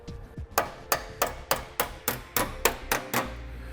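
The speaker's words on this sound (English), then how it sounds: "we're going to bend this tab, this alignment tab, flat back into the hole there" Hammer blows bending a metal alignment tab flat on a 2015 Jeep Cherokee front end during a base plate install, about ten sharp close metallic strikes at a steady, roughly even pace.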